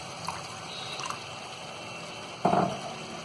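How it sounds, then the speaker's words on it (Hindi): Water poured into a pan of gravy for Kashmiri-style dum aloo, a short liquid splash near the end after faint trickling, close and quiet. "तो आधा गिलास पानी हम इसमें और डाल देंगे।"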